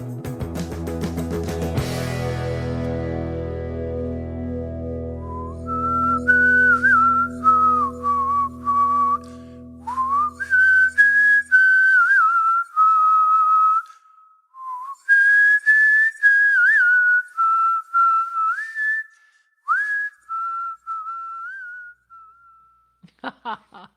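A person whistles a wandering, casual tune in short phrases and held notes, clear and close, after a loud low rumbling swell at the start.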